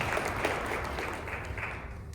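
Attendees at a transit round table session applaud themselves, a soft, continuous patter of clapping from a room-sized crowd, steady throughout and fading slightly at the end.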